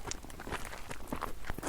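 Footsteps crunch and thud while someone walks down a bank at night, a few soft irregular steps close by over a faint outdoor hiss, with no talking.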